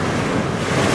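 Ocean waves break behind a rocky shore with a loud, continuous roar of surf, mixed with wind buffeting the microphone.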